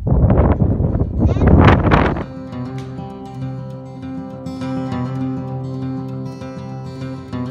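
Loud gusty wind buffets the microphone for about two seconds at a mountain camping spot near the 3000m Kaldamo Pass, then drops to a quieter steady hum with faint tonal whine beneath.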